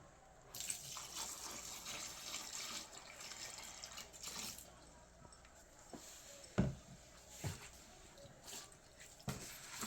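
Warm water running steadily from a tap into a sink, a soft continuous splash with occasional clunks and drips, fairly quiet.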